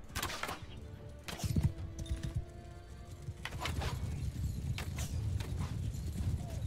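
Horse hooves clip-clop in a medieval battle game, with one horse bristling with arrows. Hoofbeats come in close, uneven bursts over low rumbling battle noise, with a brief whinny mixed in.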